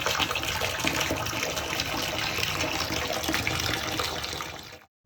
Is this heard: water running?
yes